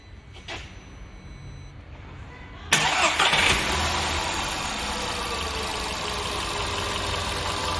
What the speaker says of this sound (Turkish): Bu arada arkadaşlar aracı çalıştırıp sesini de dinletmek istiyorum size.